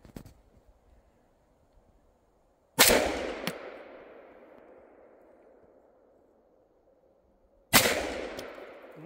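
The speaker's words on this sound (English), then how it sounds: "let's see if this magical Soviet boomstick will actually go pew. Two shots to check." An SVT-40 Soviet semi-automatic rifle fires two loud, sharp shots at an outdoor range, several seconds apart, each with a long echoing decay.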